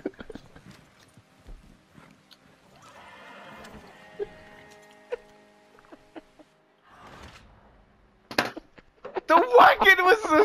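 Horses whinny in a video game, with sparse hoof clops and scattered thumps over mostly quiet stretches, ending in a louder burst of neighing.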